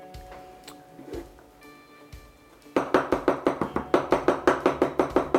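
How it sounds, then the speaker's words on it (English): A few scattered knocks and small clatters, then a machete chops garlic rapidly and steadily on a cutting board, sharp regular thuds close up. "Chopping garlic with a machete is one of the most tedious tasks"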